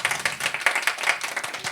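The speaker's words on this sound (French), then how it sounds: "Vous pouvez applaudir un petit peu quand même." Small audience at a slam poetry evening in a Cannes venue clapping lightly, a brief patter of scattered hand claps in a loose, uneven rhythm, fairly close and modest in volume.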